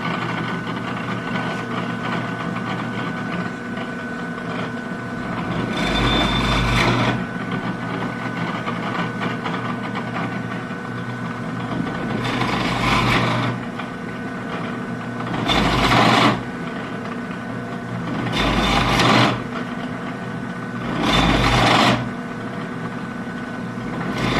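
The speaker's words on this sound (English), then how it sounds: "so we've drilled those" A drill bores slots into a wooden guitar headstock in a workshop, heard as five separate loud, harsh bursts of a few seconds each over a steady background hum.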